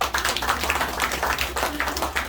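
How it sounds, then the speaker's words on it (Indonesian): Audience at a health product talk clapping in a brief, steady round of applause, fairly close and without talk over it. "Boleh tepuk tangan?"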